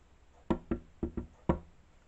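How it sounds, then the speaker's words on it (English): Loud knocking on a door: five sharp, close knocks in an uneven rhythm, two quick pairs followed by a final single rap, heard alone with no talk. "Big bang on the door before you know."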